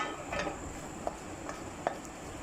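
Whole spices, shahi jeera and black peppercorns, sauté in a pan for keema, giving a soft continuous sizzle broken by a few sharp stirring clicks of a spoon against the pan.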